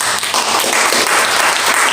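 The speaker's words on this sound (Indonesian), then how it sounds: "Tepuk tangan lagi." A church congregation at a Jakarta worship service applauds, a loud, close and dense wash of many clapping hands, steady and continuous for about two seconds.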